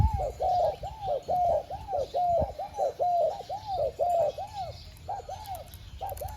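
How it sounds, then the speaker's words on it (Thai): A female dove coos in a long steady series of soft, rounded, repeated calls at an even rhythm. The calls are close and clear over faint background noise. "ฟังเสียงนกเมียผมนี่"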